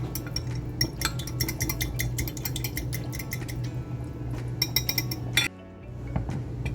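A spoon clinks rapidly against a bowl while soy sauce is mixed into a honey garlic sauce, quick metallic taps in bursts over a low steady hum, pausing briefly before resuming.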